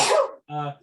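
A single short sneeze bursts out close and loud, followed by a brief voiced throat sound, during a tabletop roleplaying game session.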